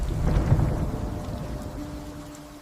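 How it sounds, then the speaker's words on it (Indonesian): Steady rain pours down while a low, rolling thunder rumble swells early and slowly fades, with a faint tonal hum creeping in toward the end. "Suara hujan sekarang sedikit redam"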